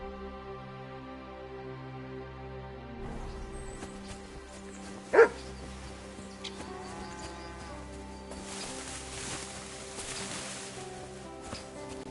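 A video-game dog named Mutt gives a single sharp bark midway through, heard over a layered game soundscape of sustained tones and ambient noise.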